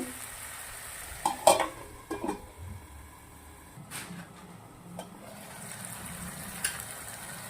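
Vegetable bhaji with chili stirred in a pan over low gas, a soft sizzle of frying under a few clinks and scrapes of the spoon against the pan, with no voices.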